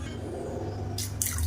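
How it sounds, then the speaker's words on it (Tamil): Water poured onto washed rice and black urad dal left to soak, a steady low trickle and splash with a brighter hiss of flowing water toward the end, fairly close and heard alone. "இப்போ தேவையான அளவுக்கு தண்ணி சேர்த்துக்கலாம்."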